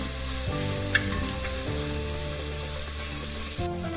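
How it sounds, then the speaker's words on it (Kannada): Oil sizzles steadily as food fries until golden brown for an egg curry, a continuous close hiss that runs the whole time beneath background music. "ಗೋಲ್ಡನ್ ಬ್ರೌನ್ ಬರೋವರೆಗೂ ಚೆನ್ನಾಗಿ ಫ್ರೈ ಮಾಡ್ಕೊಳ್ಳೋಣ."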